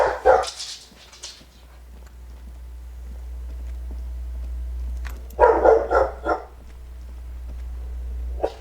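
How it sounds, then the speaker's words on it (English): A dog barks in two loud bursts of several quick barks each, close by, separated by a stretch of low steady hum. "There goes my dog, barking like crazy."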